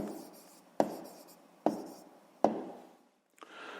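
Handwriting on paper during a sixth-grade math exercise, heard as quiet scratchy pen strokes in short bursts with sharp taps between them, close and faint.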